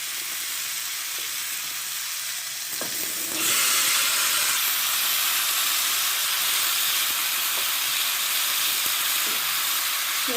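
Drumsticks dropped into a hot pan with mustard sauce, breaking into a loud, steady hissing sizzle that swells after a few seconds and holds, close up with no voices.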